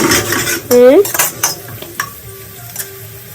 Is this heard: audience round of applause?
no